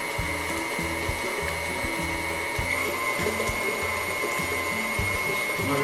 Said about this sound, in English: Let it go along and beat up for a while. And then stop your mixer